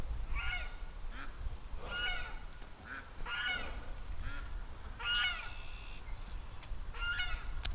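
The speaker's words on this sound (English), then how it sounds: "Ducks are wasting no time," Ducks calling in short honking bursts in barnyard mud, a few separate calls spread through the clip over steady low outdoor background noise.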